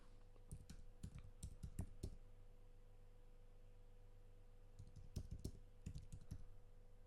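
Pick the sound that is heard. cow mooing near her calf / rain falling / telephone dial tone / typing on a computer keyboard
typing on a computer keyboard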